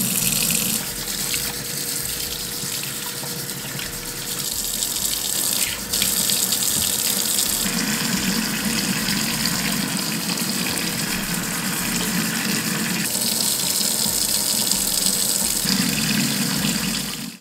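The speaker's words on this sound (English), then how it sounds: "I'm gonna wash my hair." Water runs steadily from a home tap during hair washing, a loud continuous hiss and splash whose tone shifts as the flow hits hair and hands, with no voices.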